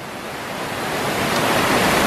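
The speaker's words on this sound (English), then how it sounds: "This is Tiffany Falls in Ancaster" Tiffany Falls in Ancaster, Hamilton, in winter: a steady, dense roar of falling water, loud and continuous, swelling slightly louder toward the end with no voices.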